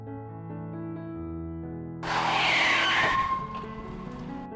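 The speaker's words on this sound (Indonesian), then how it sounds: "Farel yang mengemudikan mobilnya dalam keadaan mabuk menabrak sesuatu" A car driven by a drunk driver screeches in a sharp tire squeal as it skids, then strikes something, a loud staged sound effect rising over a sustained musical score.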